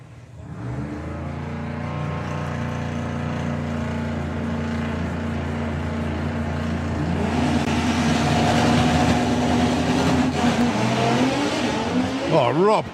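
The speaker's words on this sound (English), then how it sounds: "Oh, Rob Carter lifting the front wheels off the line there." VW drag racing cars at a Street Eliminator qualifying round launch off the line: a loud, sustained engine roar that builds and swells over several seconds, with a commentator talking over it throughout.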